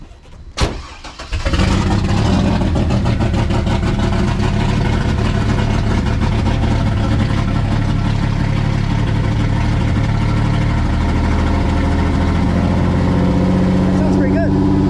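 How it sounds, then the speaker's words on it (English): A project car's engine cranks briefly, catches, and settles into a loud, steady idle with a little gas, rumbling close by for the rest of the clip. "I can start it and give it a little gas and see if it'll idle after I give it some fuel."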